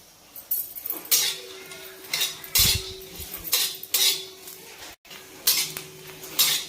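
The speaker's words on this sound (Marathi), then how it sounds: "नंतर याच्यामध्ये सुकं खोबरं टाकू आपण आणि छान ह्याला गुलाबी कलरवर परतून घेऊ।" Dried coconut roasting in a lightly oiled pan for a masala mutton curry, heard as repeated close scraping and clinking of a metal spoon against the pan in uneven bursts, with no talking.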